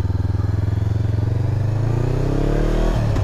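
A motorcycle engine, ridden through a forest at night, throbs loudly and close with a rapid pulsing beat, its pitch rising steadily as the rider accelerates, ending in a brief clattering shift near the end.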